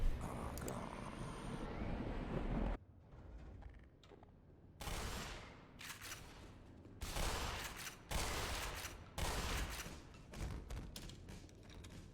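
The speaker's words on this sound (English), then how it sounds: "Weapons in your roster have also had their own unique and distinctive sounds when firing and reloading." Gunfire from the Black Mesa video game: several loud bursts of weapon shots separated by brief quiet gaps, sharp and close, with no voices.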